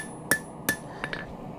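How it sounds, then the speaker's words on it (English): Light hammer taps on hot forged steel blacksmith tongs being planished, two sharp ringing strikes followed by a couple of softer taps, close and alone over a low background hiss. "Now that it's cooling pretty good, we're still just gonna do light taps"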